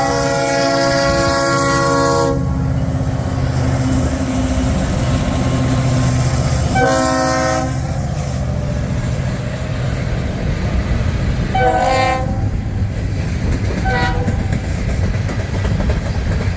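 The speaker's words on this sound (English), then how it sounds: "Westbound Norfolk Southern coming through." Westbound Norfolk Southern hopper freight train passing at Arcadia, loud and close, with a continuous rumble and clatter of cars on rails, punctuated by several long horn blasts that fade in and out.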